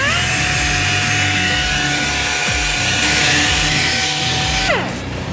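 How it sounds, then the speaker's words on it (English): A dual-action orbital sander smoothing the edges of a bumper, a steady high whine with a constant buzzing drone that holds loud and close for several seconds, then winds down sharply near the end. "The next step is some fine tune with the orbital, the DA."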